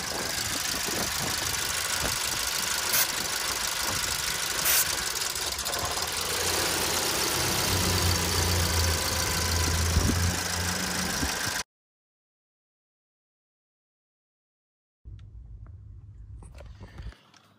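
A van engine with a suspected vacuum leak, being sprayed to test for it, runs steadily, rumbling and knocking, then surges in a rev before cutting out; after a pause of silence it starts up again briefly.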